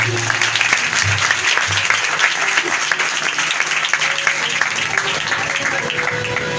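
A congregation at a night prayer gathering in a Punjab village church bursts into loud, sustained clapping, a dense and even wash of many hands that fills the room without letting up.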